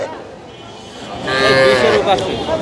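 A bull moos loudly and close by at a cattle market, one long drawn-out low call that rises and then tails off, with faint crowd murmur behind it.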